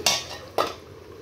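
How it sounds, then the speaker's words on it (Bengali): A spoon clanking against a pan while stirring a spicy pumpkin and prawn curry, then a lid set down; two brief close metallic knocks about half a second apart. "নেড়ে চেড়ে নেব, আবারও ঢেকে দিব 1 মিনিটের জন্য।"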